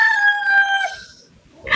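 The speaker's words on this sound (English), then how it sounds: "I'm going to try to cut out the crows as much as possible" A rooster crows once, a loud, clear, drawn-out call that trails off, followed by faint low background noise.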